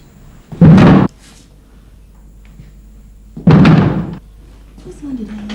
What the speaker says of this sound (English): I think we'll have to bust this door.